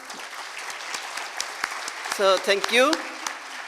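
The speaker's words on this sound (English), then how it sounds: "I think they all deserve a very loud applause." Clapping from an audience at an accreditation award ceremony fills the room, steady and sustained, while someone speaks briefly over it.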